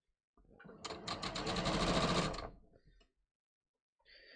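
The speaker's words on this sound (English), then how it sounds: "So I'm basically just going to sew from pin to pin to pin." A home sewing machine stitches Japanese woven cotton shorts from pin to pin, one close whirring run that ramps up, holds for about two seconds and winds down, then a brief faint mechanical click.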